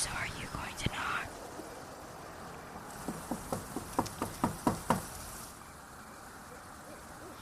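A hand knocks on a house door on a Halloween night, a quick series of about eight sharp raps, moderately loud against a hushed, hissy background, with whispering before them.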